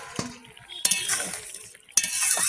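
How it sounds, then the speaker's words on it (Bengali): A metal plate lifted off a cooking pot on the stove, with a couple of bright clanks and scraping rattles over a soft background hiss. "ঢাকনাটা খুলবো, থালাটা"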